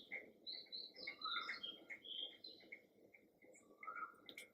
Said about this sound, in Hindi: बाहर चिड़िया की थोड़ी थोड़ी आवाज़ सुनाई दे रही है।